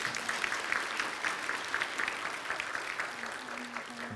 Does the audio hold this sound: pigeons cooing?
no